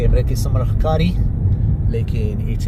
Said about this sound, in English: further on as a truck comes the other way